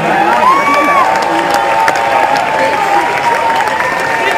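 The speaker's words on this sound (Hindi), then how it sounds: "जोरदार तालियां बजनी चाहिए यार।" Audience applause and cheering at an arts festival in India, a steady dense wash of clapping with scattered whoops from a large crowd, loud throughout with a voice speaking over it.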